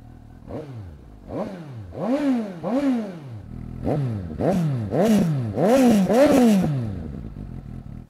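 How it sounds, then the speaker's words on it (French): Suzuki GSX-S 750 motorcycle with an aftermarket non-original exhaust, revved repeatedly after starting, each blip rising and falling in a rhythmic series of sharp close engine roars that grow louder toward the end. "je démarre la GSX-S et je vous la fais écouter, mais il y a le pot qui n'est pas d'origine"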